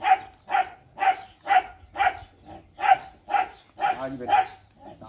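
A dog barks close by, about ten sharp barks at an even, regular rhythm, each separated by a short pause.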